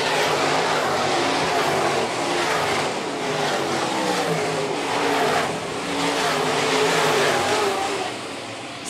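Modified race cars run single file around the Phillips County Raceway dirt track, a loud continuous engine roar that swells and fades slightly as the pack passes, with no voices.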